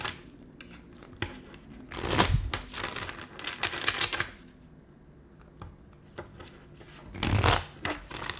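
Tarot cards shuffled close by, with soft riffling and papery slaps that rise into a few louder bursts of shuffling amid quieter handling.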